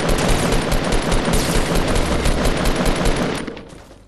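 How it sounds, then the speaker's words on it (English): Enemy gunfire in a Fortnite 50v50 match, a loud, dense burst of rapid automatic shots rattling nonstop for several seconds before cutting off and fading into quiet. "They shooting at our teammates"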